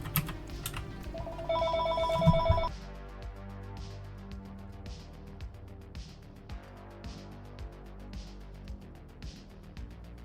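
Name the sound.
telephone ringing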